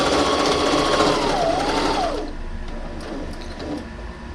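A sewing machine back stitches a cloth face mask, running fast and steady with a dense whirring hum, then drops to a quieter, softer rattle partway through. No voices are heard.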